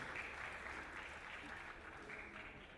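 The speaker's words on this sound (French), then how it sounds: "On peut applaudir, merci." Applause from the audience at an innovation and entrepreneurship conference session, a quiet, distant and steady patter of many hands, muffled and uniform for a few seconds.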